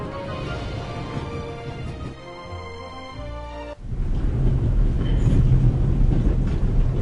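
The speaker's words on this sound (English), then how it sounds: "It will be suicidal to climb up there while the train is at full speed." A train speeding along at full tilt in The Raven video game, a continuous rumble that briefly quiets and turns tonal, then swells louder and denser near the end.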